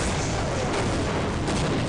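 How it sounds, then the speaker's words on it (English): A charged-up Tau cannon fires in Half-Life at a helicopter, giving a dense, loud, sustained blast of energy that holds steady for about two seconds with no voices over it. "you want to take it down using the Tau cannon"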